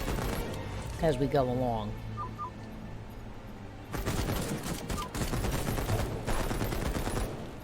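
Rapid gunfire from shooting in the video game Headcount comes in dense crackling bursts during the second half, loud and close, after a stretch where someone talks.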